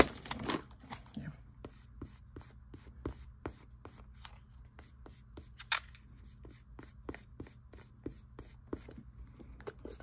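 Mylar foil is rubbed off its backing onto clay with a card, a quiet rapid series of dry scratchy strokes in a steady rhythm, close and soft.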